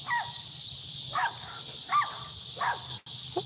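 Small dogs give several short, high yips at roughly regular intervals, somewhat distant, over a steady hiss of background noise.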